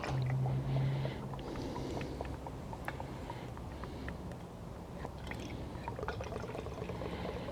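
Methylated spirits poured into a Trangia fuel bottle make a steady, continuous liquid trickle for several seconds, close up, with no talking.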